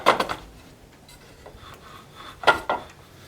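A gouge cuts into a wooden spoon blank for an offset English turned spoon, giving two short, close rasping scrapes separated by a quiet stretch with faint rubbing.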